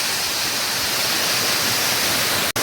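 A waterfall on a farm in the rain pours with a dense, steady, loud hiss and roar that never lets up. A brief dropout comes near the end.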